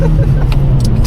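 A Vauxhall Corsa driven hard, its engine droning loud and close with a low steady roar from inside the car and no clear speech.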